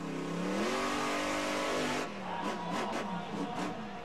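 A monster truck engine at a Monster Jam arena event revs hard and loud, its pitch climbing for two seconds before dropping into rough, pulsing roars with a crowd-like wash behind it.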